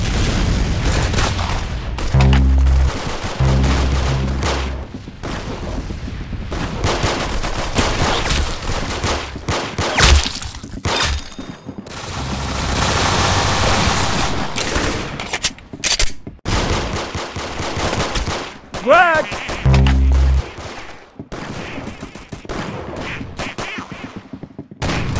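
Video game gunfire fills an arsenal boss fight, with dense bursts of automatic shots, heavy booms and explosions layered over game sounds, loud and continuous with brief lulls.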